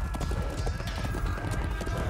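Horses gallop in a Chivalry 2 medieval siege battle, their hooves clattering in a rapid, steady clip-clop that stays close and continuous throughout.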